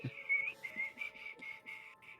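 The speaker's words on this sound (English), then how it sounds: "Adla starts whistling loudly." A person at a tabletop role-playing session whistles loudly in a steady, warbling run of repeated short phrases lasting about two seconds, close and clear with no talking over it.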